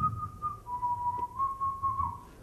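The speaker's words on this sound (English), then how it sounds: "I can whistle." A storyteller at a storytelling festival whistles a single sustained tone that wavers and slides slightly in pitch, clear and close over a low background murmur.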